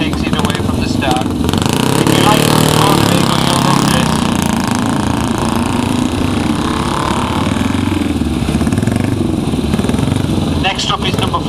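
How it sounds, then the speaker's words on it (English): A loud vintage motorcycle engine roars steadily and close by at a hillclimb start, its exhaust note rising as it pulls away. "listen to the exhaust note on this as he takes it away from the start"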